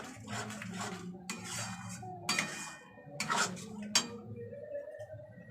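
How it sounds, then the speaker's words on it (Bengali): A spoon scrapes and clinks against a pan while biryani spice paste is stirred and fried, with intermittent metallic knocks and scraping strokes at close range. "এবার বিরিয়ানির মশলাটা ভালো করে কষাবো"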